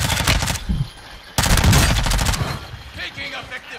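A video game shooter battle with rapid bursts of automatic gunfire. A dense volley comes first, a short pause follows, then another loud burst that tapers into scattered shots.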